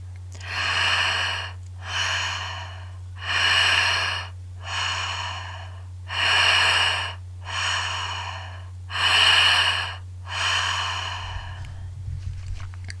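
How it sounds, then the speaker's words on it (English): Slow, rhythmic breathing, about eight even breaths in a row, each a soft airy rush close to the mic, over a low steady hum. "Simple, we're just breathing in and out."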